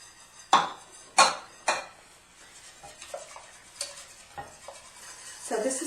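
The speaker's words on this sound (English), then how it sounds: "So we've been stirring here for just a few minutes." A spoon stirs and scrapes through a thickening melted chocolate and cornstarch mixture in a pot, with three loud clanks against the metal followed by softer, irregular scraping strokes.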